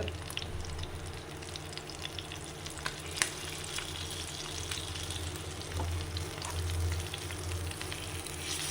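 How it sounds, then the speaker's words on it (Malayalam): Fish frying in a covered pan gives a steady sizzle, a constant crackling hiss with a low hum beneath and an occasional sharper pop. "ഞാൻ മീൻ വറുക്കുമ്പോൾ എപ്പോഴും അടച്ച് വയ്ക്കും."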